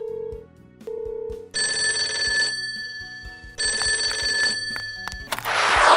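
Toy telephone ringing in a kids' doll play scene, two loud electronic bell bursts separated by a short pause, preceded by a few soft tones and clicks.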